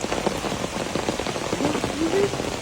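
Rain falls steadily by a canal outdoors, a close hissing patter of drops that continues without a break through the short stretch.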